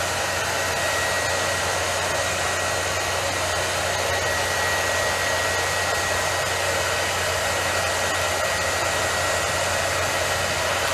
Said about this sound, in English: I'm gonna break my rule this one time and use my hairdryer